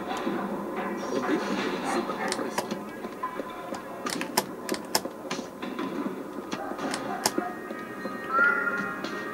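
Cartoonish cat meows from the video game Alice: Madness Returns, several short calls scattered over game music and ambience, with a voice talking alongside.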